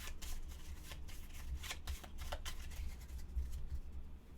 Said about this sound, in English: We're actually going to shuffle into the location deck.